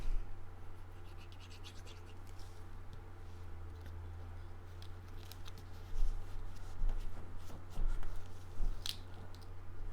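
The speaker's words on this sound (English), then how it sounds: "I'm gonna fold this back and forth just a little" Quiet scratchy creasing and crinkling of a paper card piece being folded back and forth during a Valentine card assembly, close and soft over a low steady hum.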